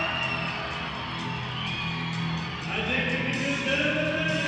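Crowd noise at a night indoor football game between the New Mexico Stars and the Capital City Warriors, a steady broad roar that swells slightly toward the end, continuous and fairly distant.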